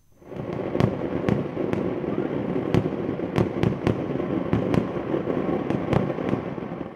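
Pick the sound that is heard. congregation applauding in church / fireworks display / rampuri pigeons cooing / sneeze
fireworks display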